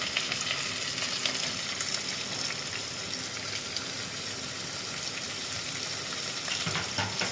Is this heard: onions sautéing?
yes